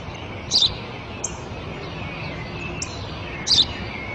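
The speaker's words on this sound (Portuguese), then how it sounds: "É um pardal." A house sparrow gives a few short, bright chirps, two clearer calls and a couple of fainter ones, spaced out over steady outdoor background noise with no talking.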